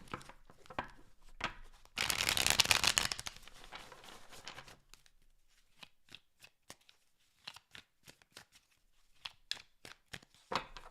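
Tarot cards being shuffled by hand in a quiet room, a dense riffling burst followed by scattered crisp snaps and taps of cards.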